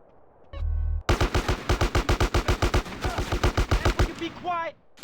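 Automatic gunfire in GTA San Andreas, a long steady burst of loud rapid shots in even rhythm, preceded by a low thump and trailing off into a short tonal sound.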